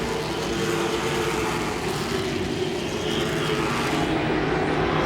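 Late model stock cars race at Langley Speedway, with a steady, loud engine roar filling the air throughout, several cars blending into one sustained drone with no voices.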